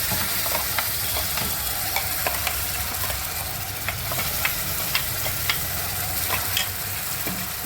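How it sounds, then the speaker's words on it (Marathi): Spice paste for malai methi paneer fries in oil with browned onion, giving a steady close sizzle with small scraping stir clicks and no talking. "ही बघा आपण केलेली पेस्ट तेलात परतून घेतली आहे"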